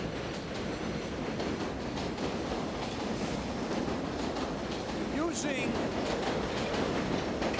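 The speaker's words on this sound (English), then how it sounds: "that overhead elevated sound" An elevated subway train thunders past overhead, a loud continuous rumble with rhythmic clattering of wheels on the tracks.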